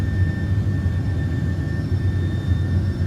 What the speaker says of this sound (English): Oh, the new engine whine sounds so good.